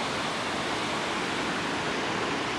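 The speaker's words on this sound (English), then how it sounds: "the river splits and creates two waterfalls" Waterfall in Japan where a river splits into two falls, heard as a steady broadband roar of rushing water, constant and enveloping, with no voices.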